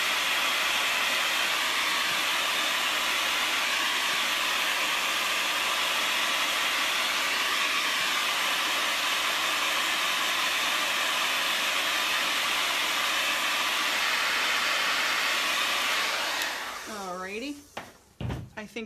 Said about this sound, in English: anytime I want, I can stop and hit this with the blow dryer